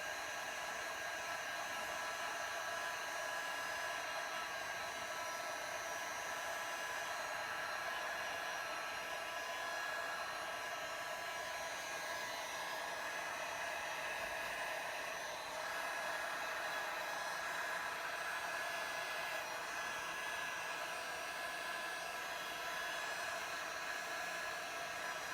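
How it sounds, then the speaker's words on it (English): Heat gun blowing hot air over a resin Dutch pour, a steady, unbroken hiss and whoosh of airflow with a faint whine, constant in loudness throughout and with no talking. "Let's use the heat gun to move that down."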